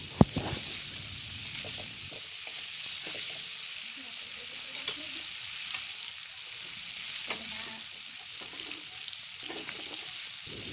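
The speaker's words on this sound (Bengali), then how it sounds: "আলুটা একটু ভেজে নেব, হালকা 1-2 মিনিট একটু ভেজে নেব।" Potatoes with turmeric and salt fry in hot oil, a continuous close sizzle dotted with small crackles and occasional spatula taps.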